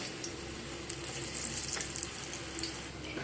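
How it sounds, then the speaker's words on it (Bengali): Mung dal fritters (bora) deep-fry in oil with a faint, even bubbling sizzle and a few soft clicks from turning them, quiet and close, with no talking. "এইভাবে করে সব বড়াগুলোকে ভেজে নেব।"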